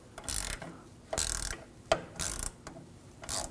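A 10mm socket wrench ratchets in repeated short bursts while loosening a nut on the rear lower control arm of a 2007-2013 BMW 328i, with sharp, close mechanical clicking and brief pauses between strokes.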